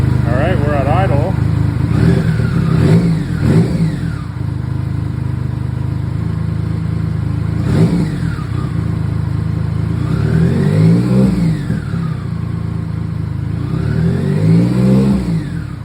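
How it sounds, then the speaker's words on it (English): A BMW K75 motorcycle engine idles steadily nearby after synchronization and idle adjustment, a continuous even hum with slight wavering pitch, while people talk over it now and then. "All right, we're at idle."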